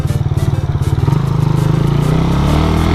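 A Suzuki Satria FU motorcycle engine idles and pulls through a U-turn, its close, steady buzzing exhaust rising slightly in pitch as it moves off, with no voices over it.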